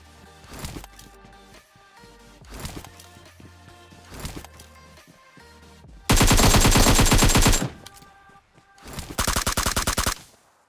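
Gunfire in the PUBG Mobile video game: scattered single shots, then two loud, sustained automatic bursts of rapid, evenly spaced cracks, the first long and the second slightly shorter, with no voices.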